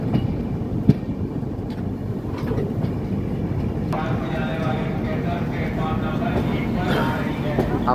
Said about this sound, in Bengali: আমাদের ট্রেন 6:48 বারাণসী স্টেশনে প্রবেশ করলো